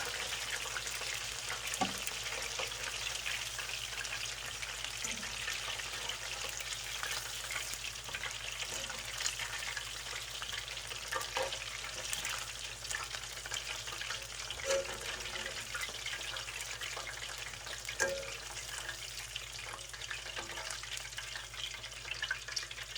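Chicken fries in hot oil, giving a steady soft sizzle and crackle with scattered pops and light clinks, close and fairly quiet, with no talking.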